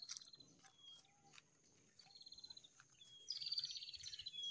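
A prinia (prenjak) bird gives thin, high chirps and short trilling calls, repeated several times at moderate distance over quiet outdoor ambience near a graveyard, with a faint insect buzz in the background.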